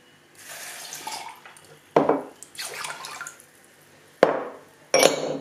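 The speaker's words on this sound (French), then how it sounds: "Un verre d'eau, un verre de vinaigre blanc ou autrement appelé vinaigre cristal. Tu verses ça là-dedans." A glass of water and a glass of white vinegar are poured into a polishing tumbler holding steel beads. Several short, splashy pours are heard alone, each one cut by a sharp knock or clink near the start.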